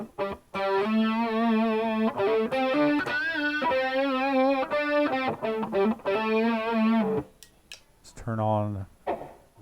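Electric guitar played through an overdrive pedal with a noise gate, giving loud distorted sustained notes in rhythmic bursts that cut off cleanly to silence between phrases, ending in a short quieter figure.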